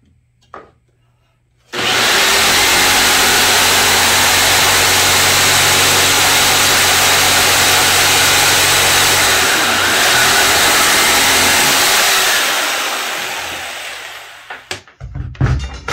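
A jigsaw cuts through wood guided along a square, a loud, steady motor whine with a rasping blade that runs continuously for about twelve seconds after a brief start, then winds down and stops.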